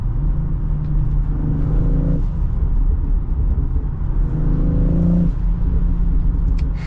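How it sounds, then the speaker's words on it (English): The exhaust of a sporty crossover gurgles and burbles under a steady cabin rumble, with two rising engine swells as the car accelerates, heard from inside the moving car with no talking. "You hear some gurgles on the exhaust."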